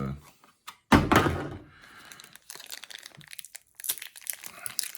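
A MOTU Origins Teela action figure's weapon bag is pulled free of its packaging, with a loud plastic crinkle and thunk near the start followed by lighter rustling and crinkles, under a speaking voice.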